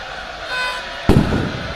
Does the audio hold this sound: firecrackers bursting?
yes